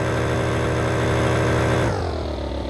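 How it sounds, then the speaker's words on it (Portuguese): A Honda Start 160 motorcycle engine runs steadily up close with a loud, continuous exhaust note that drops in pitch near the end as it eases off. "Chama a startinha. Startinha 160. Canta limpo demais na quebrada."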